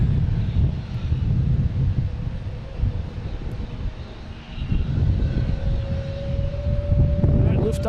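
A Lufthansa airliner approaches Logan Airport to land on runway 33 left. Its engines make a loud, steady jet roar that swells and fades slightly, mixed with wind rumble on the microphone.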